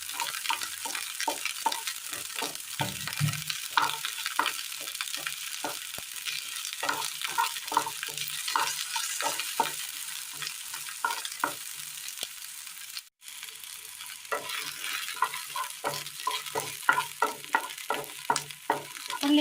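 Small onions sautéing in hot oil in a pan, a steady close sizzle broken by repeated scraping and stirring strokes that continue almost without pause throughout.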